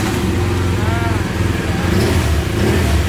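A motorcycle engine running in a steady, throbbing idle, close and loud throughout, with a slight rise in revs partway through.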